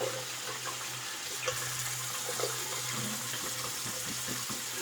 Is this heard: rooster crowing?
no